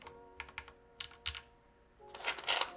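Keystrokes on a mechanical keyboard partway through assembly, a clacky batch of scattered presses with pauses, then a quicker, louder run of typing near the end, heard close with no talking.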